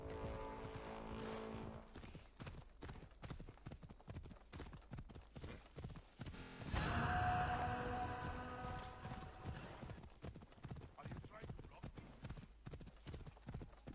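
Rapid, steady clip-clop of horse hooves galloping in Assassin's Creed Odyssey, a loud close rhythm that runs throughout, with a brief louder burst of game noise partway and a voice talking over it.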